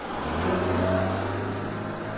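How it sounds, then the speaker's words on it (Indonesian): Animated cartoon police car driving, a steady mid-pitched engine hum with a slight rev that holds close and even throughout, no voices. "Ini adalah mobil polisi, Ella."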